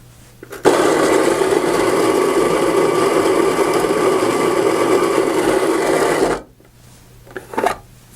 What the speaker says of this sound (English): We're going to recommend that you grind a few ounces of coffee through your machine first, just to clear things out and season it a little bit.